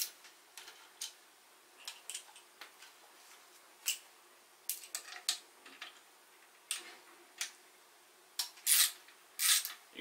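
Ratchet loosening the limb bolts on a bow, heard as a series of quick, light clicking bursts spaced irregularly, close and fairly quiet, with a couple of louder rasping clicks near the end.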